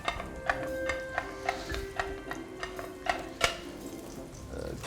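Chopped onion drops into a pan with garlic and is stirred, bringing a soft sizzle under repeated sharp utensil clinks and scrapes at an uneven rhythm, close and fairly quiet.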